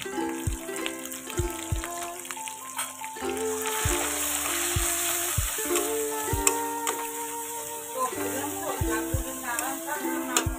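Turmeric and chili powder fry with katla fish masala in a pan, a steady moderate sizzle with stirring, partly covered by prominent background music.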